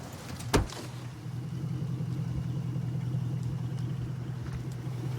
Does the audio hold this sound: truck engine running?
yes